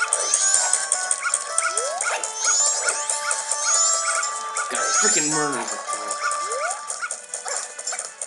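Dog sounds from Zelda: Majora's Mask, yips and whimpers heard amid busy game music and effects, with a person talking over them.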